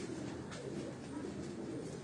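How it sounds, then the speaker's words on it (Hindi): Pigeons kept at a breeder's house coo softly and steadily, a low continuous murmur with faint background rumble and no voices. "ये जितने भी कबूतर हैं उस्ताद आशिक हुसैन साहब के घर के"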